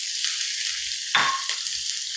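Onion dropped into hot oil over popped mustard seeds and asafoetida for a Maharashtrian upma tempering, giving a steady close sizzle with a brief louder burst of crackle partway through.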